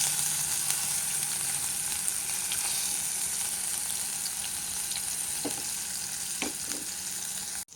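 Green chilies with ginger and garlic frying in hot oil in a pan, a steady close hiss of sizzling with a few soft clicks from stirring near the end.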